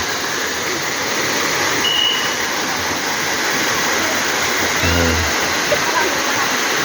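Balite Falls in Amadeo, Cavite, a waterfall that roars as a constant broadband rush of falling water, loud and close, with no break, and with a brief low thump partway through.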